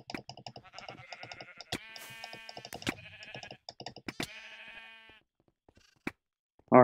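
Sheep in the Minecraft video game bleat in a rapid run of short, overlapping calls, then a few isolated bleats follow after a brief pause.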